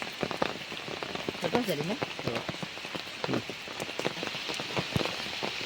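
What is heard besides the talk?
rain falling outdoors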